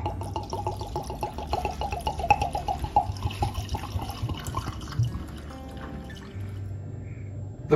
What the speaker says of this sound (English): let's get some bourbon in there